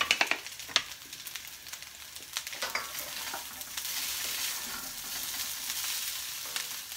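Vegan four-bean chilli ingredients fry and brown in a pan, with a steady close sizzle, crackling pops at the start and scraping stirs throughout, growing a little louder and denser toward the end.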